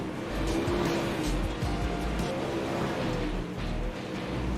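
Super late model race cars run on the track at Lincoln, a steady engine roar filling the air with passing cars rising and falling, heard from the stands with no talk.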